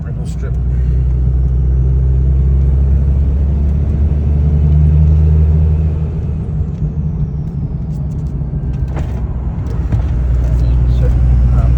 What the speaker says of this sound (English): So, you can hear the turbo noise.